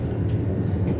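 London Overground train on the Watford Junction to Euston line, a steady low rumble of wheels and motors filling the carriage interior, continuous and close with faint higher clicks, no talk.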